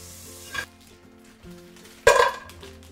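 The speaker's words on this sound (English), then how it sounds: "I can hear the butter getting hectic in here." Butter sizzles in a pan, a steady soft frying hiss with a quick clink of a utensil, then a louder burst of crackling sizzle as something is stirred or moved.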